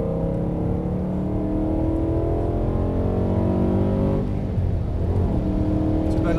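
A BMW E92 M3 with a 420 hp V8 accelerating hard out of a corner on track, a loud, steady rising engine howl heard from inside, with a brief shift and pitch change midway.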